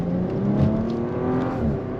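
Twin-turbo 12-cylinder car engine accelerating hard, a steady close revving drone with rising pitch and a swell in the middle, alone with no talk.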